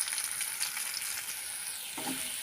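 Mango pieces with salt and turmeric sizzle in a hot pan, a close, continuous hiss of frying with light stirring throughout, briefly shifting near the end as the mix is turned.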